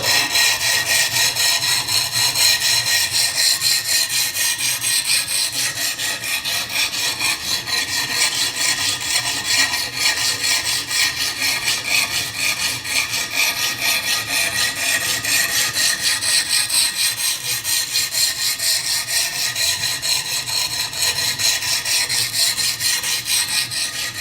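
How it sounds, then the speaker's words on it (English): Knife blade drawn back and forth over diamond sharpening stones on a XARILK sharpener system, a steady, close abrasive scraping that continues evenly for the whole stretch with no talking. "You'll notice that these diamond stones cut fast."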